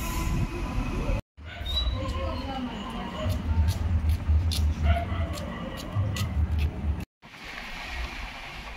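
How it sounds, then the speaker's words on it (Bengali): Rumble and clatter inside the Nilachal Express as it runs along the line, with low continuous rolling noise, rhythmic rail clicks and brief squeals, while a person talks over it; the sound cuts out briefly twice. "আমরা হিজলি স্টেশন থেকে নীলাচল এক্সপ্রেস ধরে নিয়েছি এবং ট্রেনে যাচ্ছি"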